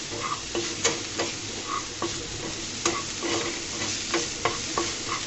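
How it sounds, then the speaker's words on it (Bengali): Dried shrimp dry-roasting in a pan, with a continuous close sizzle broken by repeated scraping clicks of a spatula stirring at an uneven rhythm. "চিংড়ি শুটকিগুলোকে ভালো করে টেলে নিব"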